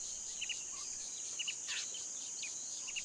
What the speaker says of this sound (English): the incessant screeching of cicadas